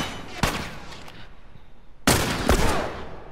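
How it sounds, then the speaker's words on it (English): Gunfire in The Last of Us during a factory fight: two sharp, loud shots about a second and a half apart, each with a rumbling tail fading into a quiet room tone. "I shot his ass."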